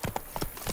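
Horse hooves clip-clop on the ground in The Witcher 3, a quick run of four or five close, evenly paced hoof strikes.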